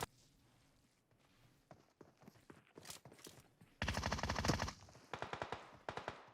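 Gunfire in the PUBG Mobile battle game on the Erangel map: scattered single shots and footsteps at first, then dense, loud bursts of rapid automatic fire with sharp repeated cracks, with no talking.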